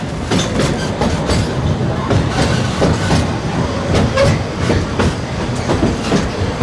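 The Walt Disney World Railroad train rumbles along the rails with rhythmic clickety-clack of wheels over track joints, loud and continuous, heard from on board at Magic Kingdom.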